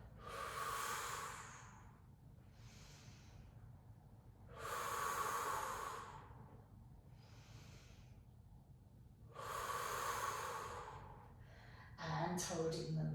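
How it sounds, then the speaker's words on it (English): Slow, deep breaths during floor exercise: three long audible exhales or inhales rise and fall at a steady pace, close and clear in a quiet room, with softer breaths between them. "Breathe out as you lower, breathe in as you come back up."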